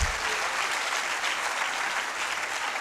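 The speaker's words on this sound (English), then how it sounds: "I thought we would have a louder round of applause." Steady, dense audience applause fills a conference hall during an opening ceremony, a sustained round of clapping at even loudness throughout, with no voices over it.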